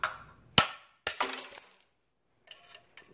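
Glass electron gun mounts snapped off inside an old TV picture tube: a few sharp, close glass cracks and crunches, followed by faint tinkling of small fragments.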